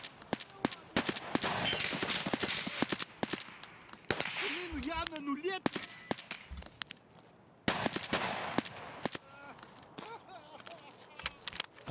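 Gunfire from a video game, a rapid series of sharp, close shots in clustered bursts with short pauses between them, set against metallic clatter and a voice talking in between.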